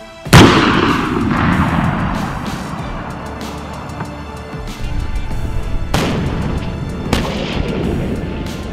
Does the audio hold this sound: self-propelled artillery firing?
yes